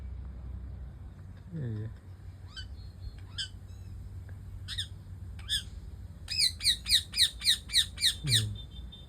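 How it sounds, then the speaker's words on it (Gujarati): A parrot squawks in scattered shrill calls, then lets out a rapid, rhythmic burst of repeated screeches near the end over a faint low hum. "પોપટ બોલે છે"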